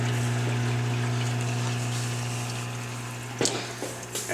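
An Odyssey water pump runs on a 130-gallon aquarium tank with a steady, close hum and a constant water wash, and a few brief knocks near the end.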